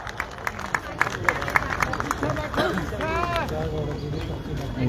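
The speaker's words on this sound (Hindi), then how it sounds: "संबोधन के लिए जोरदार तालियां बजाइएगा" Audience at a Haryana public event with the Chief Minister claps in scattered bursts, with busy crowd noise and a loudspeaker voice talking over it.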